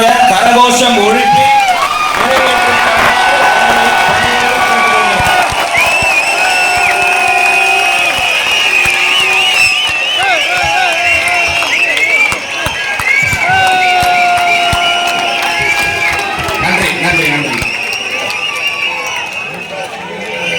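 A large crowd at a PMK party general body meeting in Mamallapuram cheers and shouts continuously, with loud overlapping voices, whoops and scattered clapping filling the whole stretch.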